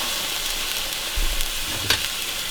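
Ground turkey hitting hot olive oil in a pan, a steady broad sizzle throughout with a louder burst of crackle as the meat lands about halfway, no voices.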